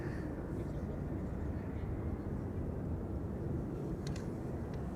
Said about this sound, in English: Next up, KLM flight 1602, arriving from Rome, A321 Neo.